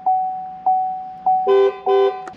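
A Chevy Silverado pickup truck horn gives three short beeps, then two longer honks, loud and close, with no talking.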